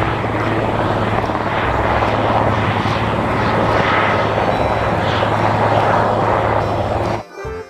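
A toy helicopter's steady whirring rotor drone runs continuously at close range, then cuts off abruptly near the end.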